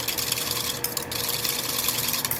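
A whisk works sugar into a thit kho mixture in a bowl, a steady close rapid scraping and swishing that continues without a break or any speech.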